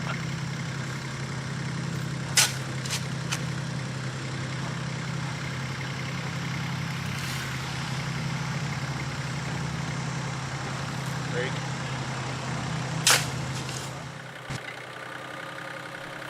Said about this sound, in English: we're doing a voiceover since the tractor is so loud